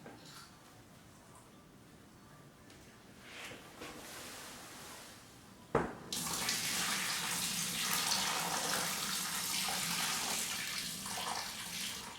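Boiled water is poured to fill a brewing vessel for a cerveza brew day. A quiet lead-in ends with a clunk, then a loud, steady rushing pour runs on for several seconds.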